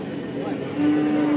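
A Simmental calf or young bull at a livestock market gives a low, steady moo that swells slightly louder partway through, close by over faint background chatter.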